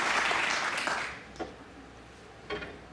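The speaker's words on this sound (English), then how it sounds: "Sympathetic applause." Polite applause from a snooker crowd at the 2018 Players Championship quarter-final, a brief dense patter of clapping that fades out within about a second, followed by a couple of isolated soft knocks.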